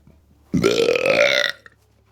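A single long, loud burp close to the microphone, about one second of deep, croaky rasping, with no talk around it.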